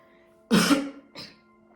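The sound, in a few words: coughing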